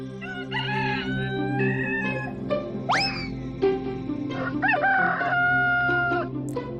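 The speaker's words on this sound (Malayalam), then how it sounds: "പക്ഷേ എന്തൊക്കെ പറഞ്ഞിട്ടും കോഴി കൂവുന്നത് നിർത്തിയതേയില്ല" Several roosters keep crowing in the morning, repeated rising calls layered over one another with some clucking, close and loud with no speech.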